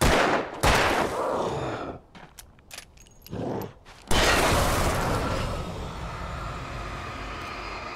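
Gunshots in Alan Wake ring out as a few sharp, separate cracks with silent gaps between them, followed by a loud sustained burst.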